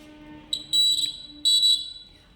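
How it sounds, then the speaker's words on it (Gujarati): An electronic buzzer on a student-built traffic signal for blind pedestrians, meant to sound once for green: shrill, piercing beeps, close and loud, with two short bursts separated by a brief gap against a quiet background. "જ્યારે ગ્રીન લાઇટ થશે ત્યારે એકવાર બઝર વાગશે"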